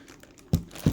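Plastic bag packaging around twisty puzzles crinkles in two short, close bursts, one midway and one near the end, with quiet handling before.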